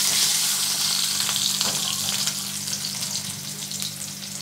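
Thinly sliced medium potato fries in a pan with a loud, even sizzle and occasional faint stirring scrapes, heard up close with no one talking, while being sautéed for a sushni greens dish.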